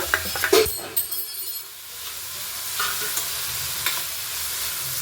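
Tomatoes go into frying onions in a pan and are stirred, giving a steady sizzle with scraping and stirring noises that are loudest at first and then settle into a continuous fry.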